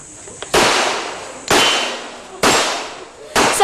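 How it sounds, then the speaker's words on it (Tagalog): Sharp gunshots from a shooting range, four loud reports spaced about a second apart, each with a long decaying echo tail and no talk over them. "Nagpakitang gila si Alger sa paghawak ng baril at pag-asinta sa mga target"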